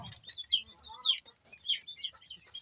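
Chickens cluck and chatter close by around a newly built coop for hens and ducks, a busy run of short overlapping calls at moderate volume with no voices.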